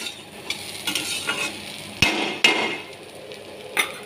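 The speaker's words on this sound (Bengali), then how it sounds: "আলু উচ্ছে ভাজা, কোনো এক্সট্রা তেল নেই, শুকনোভাবেই এটা ভাজা হবে" Potato and bitter gourd dry-fry in a pan with no extra oil, giving a soft steady sizzle broken by a few sharp scrapes and knocks of a spatula stirring against the metal.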